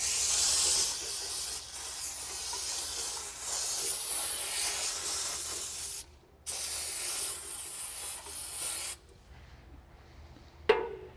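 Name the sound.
aerosol brake parts cleaner spraying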